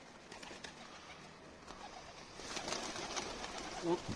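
Pigeons being fed scattered grain coo softly in an open courtyard, a low murmuring texture that swells slightly toward the end, with a brief sharper call near the close.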